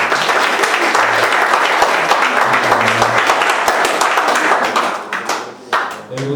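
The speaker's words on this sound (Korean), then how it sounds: "저희가 박수로 환영하겠습니다" A church youth congregation at a Sunday service claps continuously in welcome of a visitor, a dense, loud round of applause that tapers slightly near the end, with faint voices beneath.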